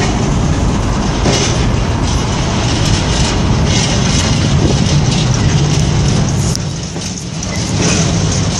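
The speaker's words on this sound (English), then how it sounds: "That's what's left of the train, guys, all the freight containers have gone." A freight train rolls past on rails near Brighton City Airport, a loud continuous rumble with rattling wagons and clickety-clack, easing briefly near the end before swelling again.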